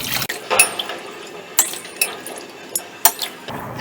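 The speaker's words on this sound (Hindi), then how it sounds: "गैस चलाएंगे" A kitchen gas stove turned on for cooking porridge: several sharp mechanical clicks and ratcheting snaps from the igniter knob, close and fairly loud, coming in irregular bursts with brief hissing between.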